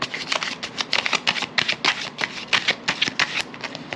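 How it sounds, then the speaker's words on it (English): A deck of playing cards is shuffled up close, a rapid, rhythmic run of crisp riffling bursts repeating steadily for several seconds. "I'm still learning how to shuffle these cards"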